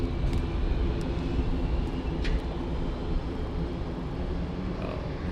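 A JetBlue airliner roars steadily at San Juan's Luis Muñoz Marín International Airport, a loud, continuous low engine rumble with no breaks.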